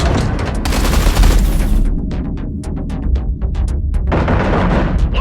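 Sci-fi combat in the space game Everspace 2 brings dense rapid gunfire and artillery blasts, with a sustained roar, then a burst of distinct rapid shots, then heavy fire again, loud and close.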